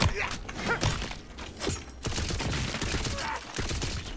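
Gunfire rattles in bursts during a session of the video game Bunkers and Badasses, loud rapid shots and impacts mixed with game effects and a faint voice.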